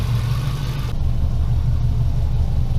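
A Subaru Impreza engine idles steadily with a low, even rumble throughout, with a slight shift in tone about a second in, while smoking from the exhaust.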